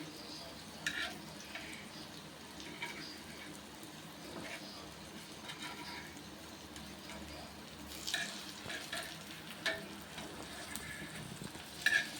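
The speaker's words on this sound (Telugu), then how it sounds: "చూడండి ఇలా వేపుతున్నాము." Pieces for a fish and kanda gadda fry sizzle softly and steadily in a pan, with occasional scraping and stirring clinks rising over the low frying hiss.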